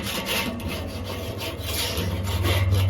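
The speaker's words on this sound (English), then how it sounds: "Give that a bit of a scrape." A grill brush scrapes the grate of a Weber kettle grill, a continuous close rasping rub with steady back-and-forth texture and no talking.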